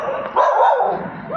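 Several dogs bark at a person in the open near a shopping mall in Gurgaon, giving a short burst of close, loud yapping barks.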